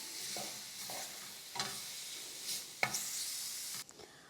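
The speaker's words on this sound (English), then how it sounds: "Keep mixing it until the mushrooms absorb the barbecue sauce." Mushrooms in barbecue sauce are stirred in a hot pan. A soft, low sizzle is broken by several distinct spatula scrapes and taps, heard close with no talking.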